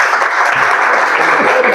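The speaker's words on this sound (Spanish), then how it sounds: "Un fuerte aplauso para Víctor Almengor." An audience at a talk on Scottish Rite Freemasonry in Panama applauds, a dense, loud burst of clapping that fills the whole moment, with no voices over it.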